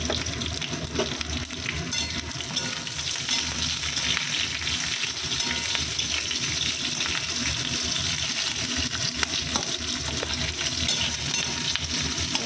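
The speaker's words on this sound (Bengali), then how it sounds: "আর একটু ভেজে দিই কাঁচা লঙ্কা, এক্সট্রা ভেজেছি" Green chilies fry in hot oil with a loud, dense, continuous crackling sizzle that holds steady throughout, close up and with no talking.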